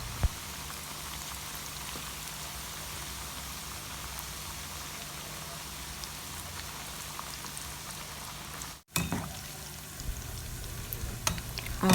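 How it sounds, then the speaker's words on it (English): Poloo (chin chin) dough frying in hot oil, a steady close rain-like sizzle with fine crackles running throughout, briefly cut off by a short dropout before resuming. "we're going to fry our poloo"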